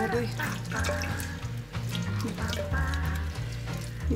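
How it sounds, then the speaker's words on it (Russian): Cold tap water runs steadily over a piece of home-raised broiler chicken being rinsed in a kitchen sink, a continuous splashing stream with shifting tone as the meat is moved under it. "Сейчас его промою холодной водой."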